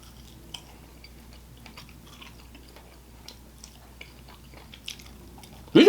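Crunchy bites of Outback Steakhouse chicken wings with a peppery dry rub, chewed close up as faint crackles over a quiet room, ending in one sharp, loud crunch.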